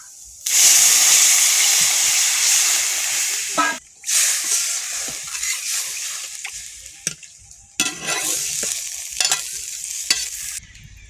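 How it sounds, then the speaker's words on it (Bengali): Water poured onto fried masoor lentils in a hot pan bursts into a loud, steaming hiss that surges and breaks off several times, with brief clattering between the waves. "এবার এই জলটা দিয়ে দেবো।"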